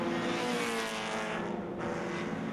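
Touring race cars, among them an Acura RSX, roar past at speed on a championship circuit, a steady loud engine drone that dips briefly mid-pass with no voices.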